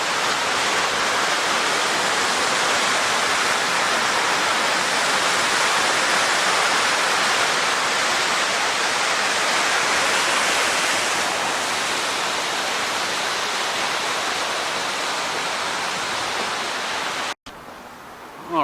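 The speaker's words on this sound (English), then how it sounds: "look at the waterfall." Mill Creek Falls waterfall roars as a steady, dense, close rush of falling water that fills the whole stretch without pause, cutting off abruptly near the end.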